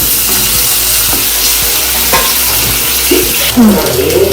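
Salted onions sizzle loudly in a pan for drumstick kurma. The frying hiss is close and continuous, with a few stirring scrapes and clinks near the end and no talking.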